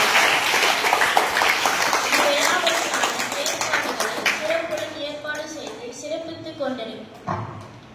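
An audience at a school Navaratri Golu celebration in Tiruvannamalai claps loudly in a dense, sustained burst to welcome the school administrator, tapering off as a voice speaks over the fading applause.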